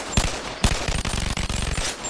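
Rapid bursts of gunfire in the VR game Bonelab, two sharp loud shots followed by a fast stuttering volley of close automatic fire with no talking.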